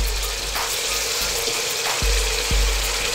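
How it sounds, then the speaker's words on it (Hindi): Masala frying in a pan as water is added and stirred, a steady hiss and sizzle with a few scraping stir strokes, close and alone without talk. "इसी दौरान थोड़ा सा हम पानी इसके अंदर ऐड करेंगे ताकि नीचे हमारा मसाला ना लगे"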